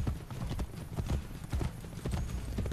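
Horses galloping in the video game Assassin's Creed Brotherhood: dense, fast clip-clop of hooves, loud and close, rolling steadily with a rumbling low end.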